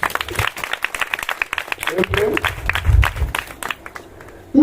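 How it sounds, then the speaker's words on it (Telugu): A church congregation claps in a rapid, scattered burst while a voice talks over the applause, the clapping tapering off near the end. "ఆ తల్లి కోసం ఒకసారి చప్పట్లు కొడదామా?"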